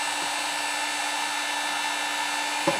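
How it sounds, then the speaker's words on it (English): Small blow dryer drying alcohol ink, a steady close whirring hum with a high whine running unbroken throughout, ending with a faint bump. "Small blow dryer because it's easier."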